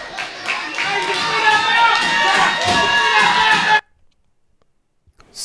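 A wrestling arena crowd roars and cheers loudly and steadily for a fan-favorite wrestler, with scattered claps and shouts, then the noise cuts off abruptly into near silence.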